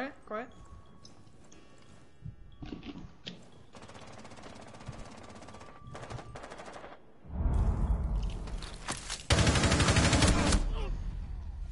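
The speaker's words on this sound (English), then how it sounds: "They're already shooting this window." Video game gunfire shoots at a window: bursts of rapid automatic shots build from scattered cracks to dense, loud sustained fire near the end.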